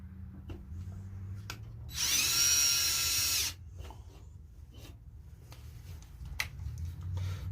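A power drill fitted with a long bit whines loudly in one sustained burst of about a second and a half, set against quieter handling noises and faint background hum before and after.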